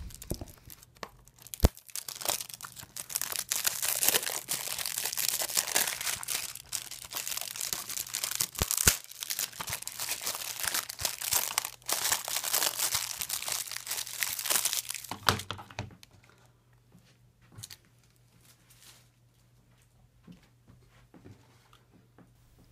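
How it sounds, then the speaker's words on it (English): Cellophane wrapping is torn and crinkled off a Blu-ray case up close, a sustained bout of crackling and tearing with sharp snaps that stops abruptly, leaving near silence with faint handling. "So with the cellophane wrapping off"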